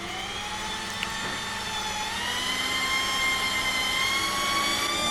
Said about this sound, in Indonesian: cukup mudah lah untuk sekelas bor Dolis BA670 ini